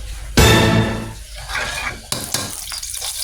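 Oil hits a hot pan for pancit with a sudden loud sizzle that hisses and fades, then a second burst of frying with stirring and clinks of utensils on the pan.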